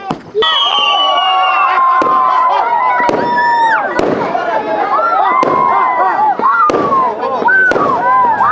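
New Year fireworks burst on a mountaintop, loud whistling rockets rising and popping in quick succession alongside sharp cracks, very close, while a crowd cheers and shouts underneath.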